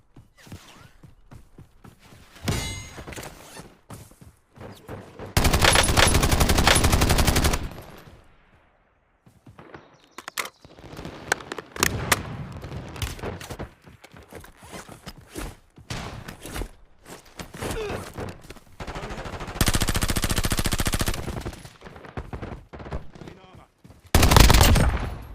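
Bursts of automatic gunfire in Call of Duty Warzone, several loud sustained volleys at close range separated by quieter stretches of footsteps, movement and scattered distant shots, with brief in-game voice callouts.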